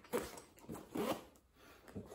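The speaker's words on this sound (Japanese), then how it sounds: "外部にはこのようにジッパー式の" A zipper runs along the outer pocket of a waterproof coyote-colored tote bag, giving several close, scratchy pulls with short pauses between them and no voices.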